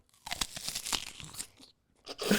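A big bite into a raw onion gives sharp, close crunches followed by several wet chewing crackles, then a brief pause and another crunch.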